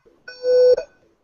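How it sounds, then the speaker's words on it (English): A fire alarm sounds a single sustained electronic tone of about half a second, loud and close, with no talk over it. "My fire alarm is very clear"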